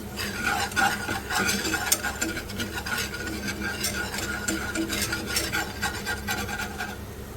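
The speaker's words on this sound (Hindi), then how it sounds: "इसको अच्छे तरीके से मिक्स कर लें, अच्छी तरह भून लें इसको ना" Flour is stirred and roasted in a pan for a white sauce, a spoon rubbing and scraping steadily against the pan over a faint sizzle, fairly quiet and continuous.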